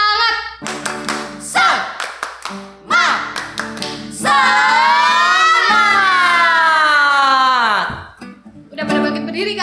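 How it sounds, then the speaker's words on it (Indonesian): Children in a Sunday school service doing a rhythmic spirit clap, bursts of sharp claps in patterned groups alternating with loud sung or chanted voices. "Tepuk semangat."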